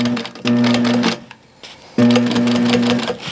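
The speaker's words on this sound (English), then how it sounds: "I'm gonna go forward a few stitches, then I'm gonna hit my reverse latch. I'm going to go back over those stitches," A domestic sewing machine stitches fabric webbing, running forward in a steady rapid whir, pausing for about a second for the reverse latch, then running again back over the stitches, close and loud with no talking.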